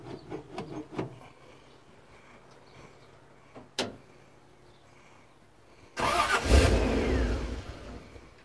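Car engine fitted with a Holley carburetor, several short cranking bursts and a brief sputter, then catching at about six seconds and rumbling loudly in a rough, revving run to the end.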